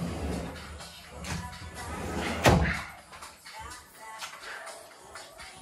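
Wardrobe cupboard doors fitted with soft-close dampers closing, giving a single muffled thump midway through against quiet room noise, with a few light knocks and shuffles around it.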